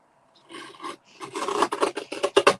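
A paper trimmer slices a thin sliver off cardstock during a stamping craft project, giving a short, close rasping cut that builds into a string of quick, loud scraping strokes.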